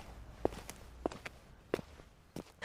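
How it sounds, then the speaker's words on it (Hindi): Footsteps of people walking away overhead, four soft, evenly spaced treads about every 0.6 seconds, faint and muffled against a low hiss. "लोग जा रहे हैं, उनके कदमों की चाप मध्यम होती जा रही है।"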